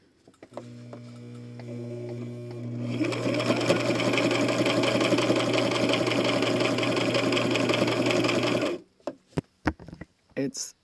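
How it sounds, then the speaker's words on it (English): A sewing machine stitches half-inch bias tape strips for fabric masks, starting after a short hum and running steady and close for about eight seconds, then stopping abruptly with a few faint clicks. "Let me show you what it's like when I try to sew."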